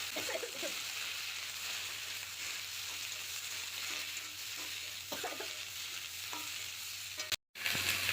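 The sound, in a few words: frying bottle gourd stems with potatoes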